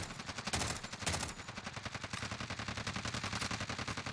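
Rapid automatic gunfire in a Warzone quads match rattles in dense continuous bursts, with heavier shots punctuating the stream, fairly close and loud, with no talking.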